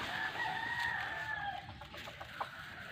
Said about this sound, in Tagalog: May mga manok din ako.